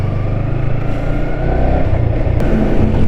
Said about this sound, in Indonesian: Kayaknya mesin sih sehat ya